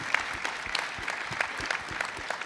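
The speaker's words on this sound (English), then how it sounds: "Let's a round of applause for that." Brief applause from a policy conference audience after a panel discussion: a steady, moderately distant patter of many hands clapping with no talk.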